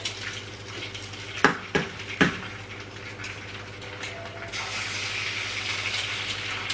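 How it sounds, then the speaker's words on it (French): Eggs cracked for fried eggs, giving a few sharp taps at a kitchen counter or pan, followed by a soft rising sizzle in the pan, all quiet and close. "je casse mes œufs"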